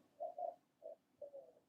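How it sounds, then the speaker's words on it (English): Owl hooting right outside a window, four soft low hoots in an uneven rhythm, two close together, a pause, then two more, faint against a quiet background. "It's definitely an owl right outside my window."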